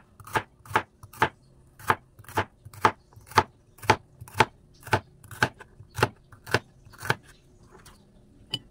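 A knife cuts thin slices of bitter gourd (ampalaya) on a board, giving about nineteen crisp, close chops in a steady, quick rhythm with no one talking.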